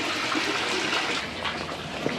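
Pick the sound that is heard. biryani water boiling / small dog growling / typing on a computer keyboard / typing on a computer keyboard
biryani water boiling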